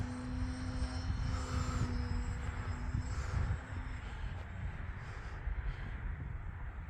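An electric RC airplane powered by a 4S battery runs its motor at about three-quarter throttle, a steady high-pitched whine with whirring propeller drone that holds loud and continuous outdoors, easing slightly partway through.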